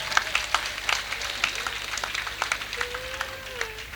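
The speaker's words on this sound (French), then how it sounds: "Alors nous les acclamons très fort." A church congregation at a Chrism Mass in the Diocese of Abengourou applauding the choir, a steady patter of many hands clapping at moderate distance, with a voice briefly calling out over it.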